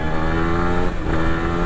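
A motorcycle engine hums steadily and close on a twisting, up-and-down mountain road in North Kolaka, with a brief dip and a small surge partway through and no voices.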